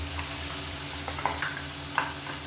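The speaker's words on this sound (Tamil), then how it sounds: "இந்த எண்ணெயில் இந்த மசாலா நல்லா அப்படியே பரட்டி விட்டுருங்க" Ground masala paste fries in oil with a steady sizzle, broken by a few soft stirring scrapes and light clinks from the pan, close and moderately loud with no voices.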